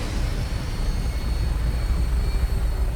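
A steady low aircraft engine roar drones in the Fallout 4 game world as the craft takes off, loud and even with no voices over it.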